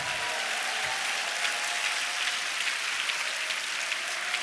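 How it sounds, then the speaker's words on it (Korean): Church congregation applauding during a worship service, a steady wash of clapping at moderate level with faint voices beneath. "우리 박수 한번 하십시다."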